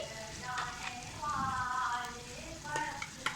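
A spoon stirs and flips turnip and meat in a pan, with soft scraping strokes over a steady sizzle throughout, fairly close and moderately loud.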